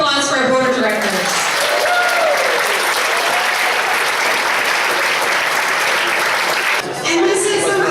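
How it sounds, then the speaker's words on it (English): An audience bursts into loud, sustained applause that fills the room, fading briefly near the end before a voice returns. "A big round of applause for our board of directors."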